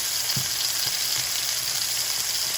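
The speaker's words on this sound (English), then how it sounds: "That's going to draw a very good sear on our steak." A steak searing in a very hot pan, a loud, even hiss and sizzle throughout with a few soft low knocks of the pan or utensil, heard up close without any talking.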